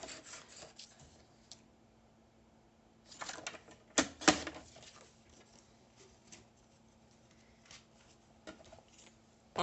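Cardstock is trimmed on a paper cutter for a handmade album, with a few short scraping slices and taps, one sharper cut in the middle, close and quiet in a hushed room.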